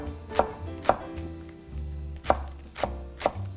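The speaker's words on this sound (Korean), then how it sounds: "대파는 그냥 송송 이렇게" A knife chops green onion (daepa) on a cutting board in a handful of crisp, close thuds, irregularly spaced with a brief pause midway, loud and clear with no talking.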